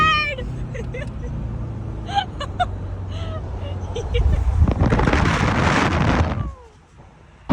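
Wind roars through an open convertible driving through a small town in the rain, rising into a loud, steady rush for about two seconds before dropping away; brief voices and engine hum sit underneath.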